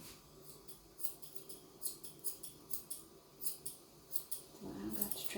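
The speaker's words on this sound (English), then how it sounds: "carefully take your scissors down in that direction" Repeated crisp snips of scissors trimming a dog's hair, about a dozen in a steady rhythm, close and fairly quiet, ending with a brief soft rustle.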